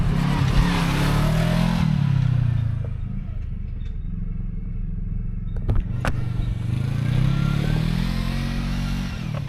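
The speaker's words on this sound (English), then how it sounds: "Another vehicle has come up behind me" Another off-road vehicle comes up on a trail and passes, its engine noise loud at first, easing, then swelling again with rattles and clatter, mixed with the idling of the vehicle recording it.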